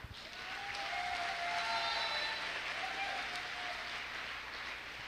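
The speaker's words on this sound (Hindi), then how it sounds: "तालियों में मजा नहीं आया" An audience at a motivational speech event applauds steadily for about five seconds, a broad wash of clapping that swells slightly in the middle and tapers at the end, with a faint voice running beneath it.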